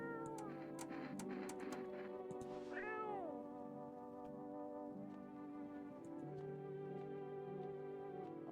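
A cat meows repeatedly near the microphone, drawn-out rising and falling cries spread over several seconds above a steady low background hum, with no talking.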